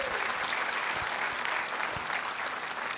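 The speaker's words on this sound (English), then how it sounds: "Could you give God a round of applause just for what he's doing?" Sustained applause from a large audience, steady and full throughout, with no talking on top.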